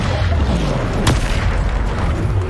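A Bombarda spell explodes in the wizarding game Hogwarts Legacy, a single sharp blast cutting through a constant loud rumble of combat noise.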